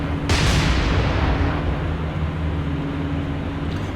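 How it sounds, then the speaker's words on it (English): Heavy, rumbling blasts roll out as naval ship magazines explode in the War on the Sea game, one sharp burst near the start swelling into a long, dense roar that fades slowly. "We had 3 magazine explosions."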